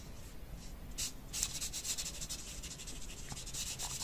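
An alcohol marker rubs across a stamped card, filling in the colour with soft, quiet scratchy strokes that come in short repeated bursts, close and alone without talk.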